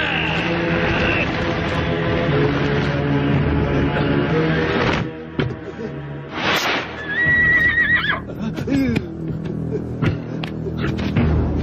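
A horse whinnies amid a dramatic scene with hoof clip-clop, music and other voices, the neigh standing out loud and close in the middle of the commotion.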